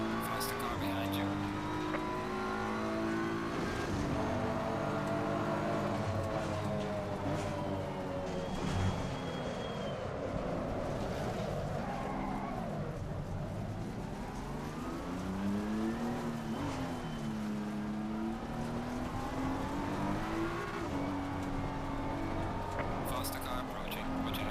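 Race car engines in the Gran Turismo 7 racing video game rev and shift continuously over a long stretch, with rising and falling pitch and occasional tire noise, loud and close, while a voice speaks over the racing.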